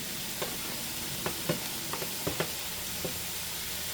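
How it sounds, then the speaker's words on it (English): Moose meat frying in a pan for homemade goulash, a steady soft sizzle with a few sharp pops and scrapes of stirring scattered through. "And this is frying out really nicely"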